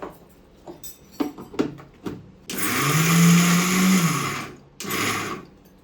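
A kitchen mixer grinder blends ginger, garlic and coriander into a paste. A few clicks and taps come first, then a loud whirring run of about two seconds, followed by a shorter second burst.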